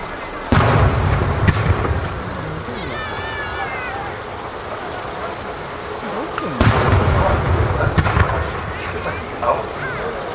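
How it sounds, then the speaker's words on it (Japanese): Aerial fireworks shells burst in loud booming volleys at a fireworks festival at Nagashima Onsen, with crackling and whistling trails between the blasts and a commentator talking over them. "スターマインの後は再び打ち上げ花火の花火。"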